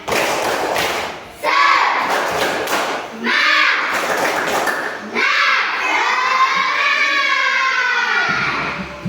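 Young schoolchildren in an Islamic religious education classroom perform a 'tepuk semangat' clapping chant: a few sharp claps, then loud shouted chanting in bursts, with rhythmic thumps and claps woven through the group voices.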